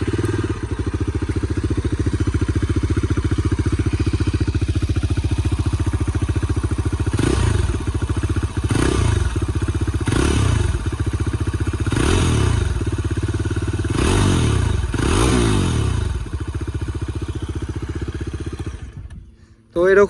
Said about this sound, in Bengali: তো চলো তোমাদের আবার একটু এক্সস্ট নোটটা শুনিয়ে দিই গাড়ি।